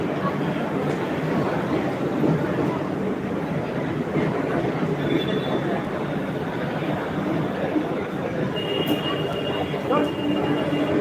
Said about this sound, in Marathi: हे बघा ट्रेन आलेली आहे बेसिक ट्रेन आहे